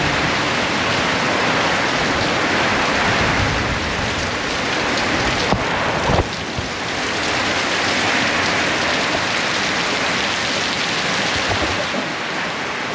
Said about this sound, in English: But this is a pretty heavy downpour now.